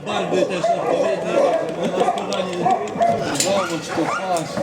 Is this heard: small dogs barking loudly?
yes